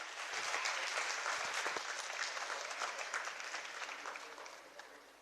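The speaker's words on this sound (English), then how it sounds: "Please give a big round of applause." Sustained applause from a conference audience at a valedictory ceremony, dense and steady clapping filling the room throughout, tapering slightly toward the end.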